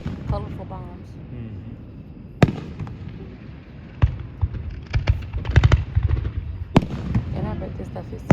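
Fourth of July fireworks explode at an outdoor display, with sharp bangs and crackling bursts scattered across the stretch, some close and loud, while people talk over the noise.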